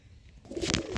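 A brief, close coo from giribaz high-flyer pigeons swells quickly and fills the short moment, with a breathy rustle alongside.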